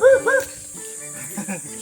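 A dog gives a couple of short, high yelping barks, close by, followed by quieter whines and murmuring voices.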